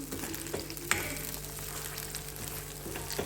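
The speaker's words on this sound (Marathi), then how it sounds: "आता हे चांगलं भाजून घ्यायचं." Masala roasts in a pan for a cashew and pea curry, a steady close sizzle with a couple of light spatula knocks against the pan.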